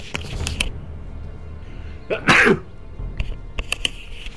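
One close, forceful sneeze rises out of quiet background noise, with faint clicks and rustles before and after it.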